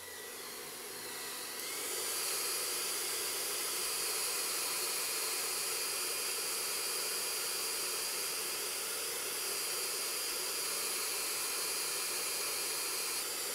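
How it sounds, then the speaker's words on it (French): A hair dryer blows hot air onto a Whirlpool 6th Sense PowerClean dishwasher part under repair, a loud steady whooshing hiss that starts softer and rises to full force after a couple of seconds, then holds constant. "Tu peux prendre le sèche-cheveux, m'arroser les doigts, là, s'il te plaît?"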